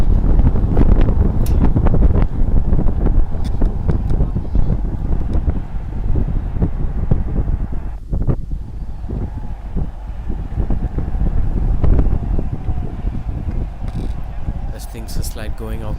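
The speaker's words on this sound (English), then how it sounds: "Huge wind that pushes them out of control." Strong wind gusts blast across an outdoor cricket ground during a women's cricket tournament, a loud continuous roar buffeting the microphone throughout, with people talking beneath it.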